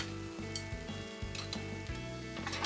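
Tamagoyaki, a rolled Japanese omelette, sizzles and crackles steadily in a frying pan, a close continuous fry with brief stirring or scraping touches throughout.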